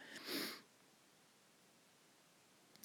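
A single short, breathy sniff up close, followed by quiet room tone and a faint catch of breath at the very end.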